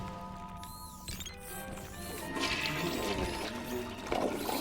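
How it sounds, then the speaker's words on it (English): A phantom toilet flushes in a haunted hotel bathroom in the Ghostbusters video game: a rushing, swelling water surge builds midway and lingers, layered with eerie sustained game tones, with no talk. "Phantom flush toilet. This scary toilet emits frightening sounds."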